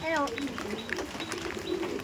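Soft, throaty coos from Giribaz pigeons rolling in short repeated phrases nearby, mixed with light chirps and background murmur.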